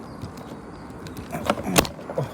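A CNG methane filling nozzle is unhooked from a car at a gas station, giving scattered close metallic clicks and rattles, then a short sharp hiss of escaping gas.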